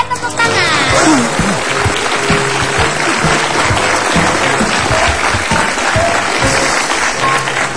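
Studio audience on an Indonesian TV talk show breaks into loud, sustained applause with cheering, filling the whole stretch at close range, with some music and voices mixed faintly underneath.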